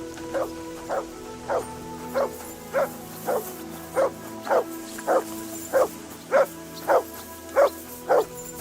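Mutz, a dog in the video game Kingdom Come Deliverance II, barks about a dozen times in a steady, evenly spaced rhythm, with each bark short and moderately close against a quiet background.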